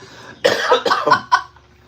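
A burst of four or five harsh, choking coughs from choking on a dry sugar cookie, loud and close, fading into a quiet breath.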